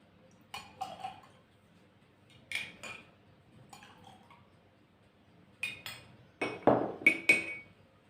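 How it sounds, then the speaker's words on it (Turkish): A spoon clinking against a glass while colored water is added for a density tower experiment, a few light, sparse clinks with quiet gaps and a brighter cluster near the end. "Biraz kaşıkla koyayım onu dökülmesin"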